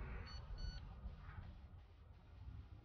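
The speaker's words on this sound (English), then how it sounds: "A little bit of a double beep" Two quick high electronic beeps in a row from a BetaFPV Lite Radio 3 ELRS controller, fairly faint, over a steady rumbling wind-like background.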